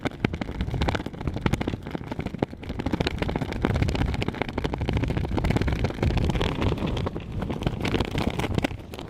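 Strong Antarctic wind roars steadily across the microphone, with a flag flapping and snapping in rapid irregular bursts throughout, loud and close with no voices.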